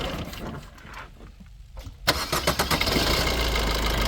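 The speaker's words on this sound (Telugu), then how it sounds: "బండి ఇంజన్ కూడా స్టార్ట్ చేసి చూపిస్తాను" A 2017 Maruti Suzuki Dzire VDi diesel engine cranks briefly after some handling noise, catches with a sharp start and settles into a steady, close, rattly diesel idle.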